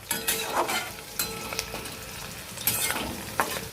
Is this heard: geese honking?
no